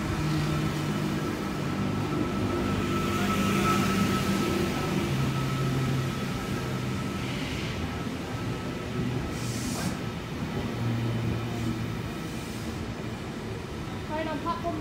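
V-set electric train with chopper control departing a platform at Springwood station, a steady low motor hum with tonal whine bands that shift as it pulls away, plus rail rumble and a brief hiss near the end.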